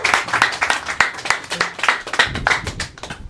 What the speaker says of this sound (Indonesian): Bertepuk tangan yang meriah untuk Ben Danio.